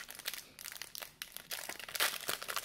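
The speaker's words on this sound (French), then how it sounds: "mon papa est en train d'ouvrir le paquet" The foil wrapper of a Panini Select 2020-21 card pack crinkles and tears as it is opened, close and fairly faint, a run of irregular crackles with no talking.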